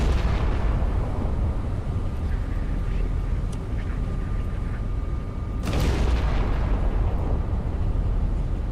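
Scharnhorst battleship guns firing in the Battleship Command game, a dense rumbling barrage that stays loud throughout, with a sharper blast bursting out partway through.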